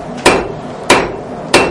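Blacksmith hammering a hand-forged nail on an anvil at Fort Gaines, Dauphin Island, Alabama: three loud, sharp metallic strikes spaced evenly about two-thirds of a second apart, with no talking.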